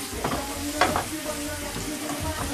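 Herbs stirred into mackerel, brown rice and vegetables frying in a pan, giving a steady close sizzle with scraping stir strokes throughout.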